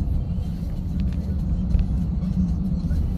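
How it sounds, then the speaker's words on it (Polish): A loaded delivery van climbing a hill on the road gives a deep, steady engine drone with low rumble from inside the cab, continuous throughout. "Jak się nie męczy ten silnik."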